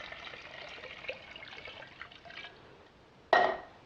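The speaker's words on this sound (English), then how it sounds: "I'm adding some water." Water poured into a jebena, a traditional clay coffee pot, giving a soft continuous trickle that ends in a brief louder splash.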